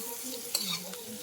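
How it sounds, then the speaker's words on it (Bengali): Spice paste frying and being stirred in a wok, a short burst of close sizzling with a brief scrape of stirring midway, no voices. "মশলাটাকে ভালো করে কাজিয়ে নিচ্ছি"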